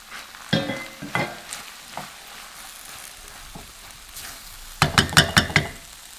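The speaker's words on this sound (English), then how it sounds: "So add our prawns in." Prawns hit a hot pan with a few sharp sizzling bursts, then fall to a quieter fry before a quick run of five clattering stirs or knocks against the pan, close up with no talk.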